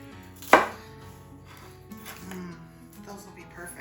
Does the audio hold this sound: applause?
no